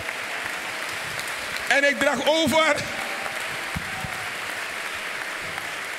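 A church congregation applauds, a broad steady wash of clapping that fills the whole stretch, with a voice speaking briefly over it partway through.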